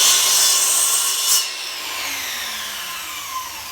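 A saw cuts through a piece of wood in a workshop, a rough rasping stroke that fades after about a second and a half into a quieter lingering hiss, with a faint knock near the end.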